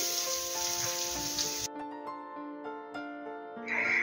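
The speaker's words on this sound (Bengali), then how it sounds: "মাছ ভাজার তেলে আমি আর একটু তেল দিয়ে দিলাম, দিয়ে দিচ্ছি পেঁয়াজ কুচি" Chopped onion going into hot oil left over from frying small fish, giving a bright, close sizzle for the first couple of seconds that then drops away, with steady background music throughout.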